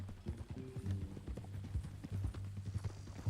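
Horse hooves clip-clop steadily on the ground in Red Dead Redemption 2, a brisk rhythmic walk heard close with soft game ambience beneath and no talking over it.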